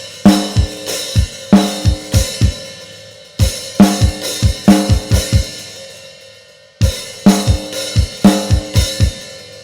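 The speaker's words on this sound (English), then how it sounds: "Kick, snare, kick, hi-hat, kick, snare, kick." A drum kit plays a repeating groove of punchy kicks, sharp snares and bright hi-hats, with a sustained ring, stopping and restarting in three loud phrases.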